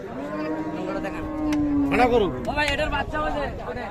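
A Friesian cow lets out a long, low moo, followed by shorter lowing calls from cows and calves, with people chattering in the background throughout, at Raniganj cattle market, Dinajpur.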